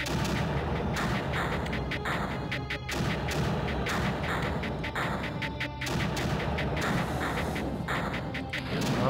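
Mortar and gun fire in the strategy game Creeper World, a dense, continuous barrage of booms and cracking shots that stays loud for the whole stretch, with repeated heavier impacts and no talking.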